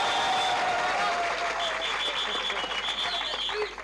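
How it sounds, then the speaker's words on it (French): A television studio audience on an African media talk show breaks into sustained, dense applause, with a few tonal whoops or whistles riding over the clapping before it tapers off at the end. "A-t-il droit aux applaudissements également?"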